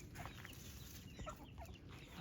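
Silkie chickens cluck softly in a coop, with short scattered clucks and calls over a steady low background hum and no talking.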